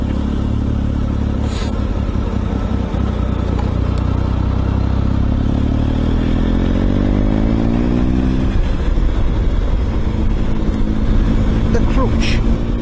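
Triumph Tiger motorcycle being ridden, a steady loud engine drone with a rising rev sweep and a gear change midway, close up with wind rush and a rider's voice talking over it.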